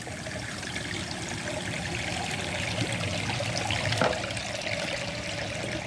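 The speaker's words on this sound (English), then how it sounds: "Kicking that water right out of there." ACQUAER sump pump discharging water, a steady rushing, gurgling pour that runs unbroken throughout, close and moderately loud.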